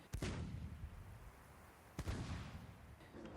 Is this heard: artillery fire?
yes